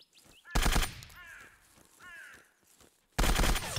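Suppressed VSS rifle fire in the Zero Sievert game: two short, loud bursts of rapid shots separated by a quieter stretch of chirpy in-game noises.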